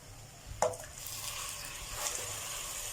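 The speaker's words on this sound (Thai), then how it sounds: "วันนี้ผมก็จะใส่ โขก กระเทียม หอมแดงแล้วก็พริกลงไปนะครับ เอาไปผัดให้มันร้อนก่อน" Soft sizzling of pounded garlic, shallots and chili stir-frying in a hot pan with a brief clink of a utensil, quiet and close, no talking.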